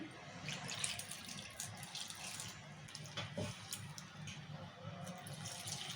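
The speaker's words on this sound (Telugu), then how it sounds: "ఇప్పుడు కొన్ని వాటర్ పోసి కలుపుకుందాము" Faint, steady trickle of water being poured into flour batter for Mysore bonda, soft splashing and dribbling continuing throughout at low volume.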